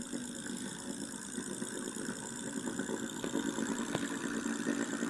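Dual axial flux electric motor spinning at speed on a low-current supply, a steady faint whirring hum with a fine buzzing texture, continuous and close.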